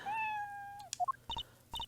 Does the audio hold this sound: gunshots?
no